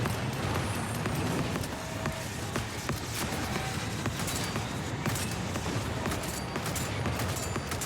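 Dense, continuous bursts of rapid gunfire from a firefight in Cyberpunk 2077: Phantom Liberty, loud and sustained throughout with overlapping shots and no pauses.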